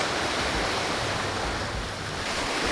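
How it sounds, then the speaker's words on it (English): Waves wash steadily onto a beach on Koh Kood island, Thailand, a loud continuous surf roar with wind buffeting the microphone and no talking. "This is a really nice beach."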